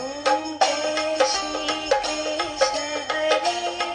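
A talking Bhagavad Gita device plays the Shri Krishna aarti as a loud, bright electronic melody of plucked, bell-like notes with regular rhythmic accents, with no voices over it.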